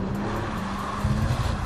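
Porsche 911 Turbo S engine on a small race circuit, with engine sound enhanced by a sound symposer rather than an active exhaust: a steady, loud low drone from inside the car that swells briefly near the end.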